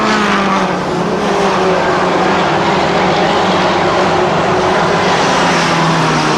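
Stock mini race cars roar around an oval track at full racing pace, a dense, loud and continuous blend of several engines with no break, no clear pass-by and no talk.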